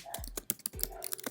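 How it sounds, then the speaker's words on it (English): Close, quick keystrokes clatter on a computer keyboard in a short, uneven burst of typing, heard alone and fairly quiet. "So you're going to type in your group name"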